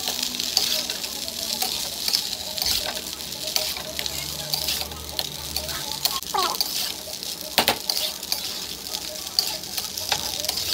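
Paneer and egg fry in a pan, a soft steady sizzle close by with occasional stirring scrapes and clinks, and no speech over it.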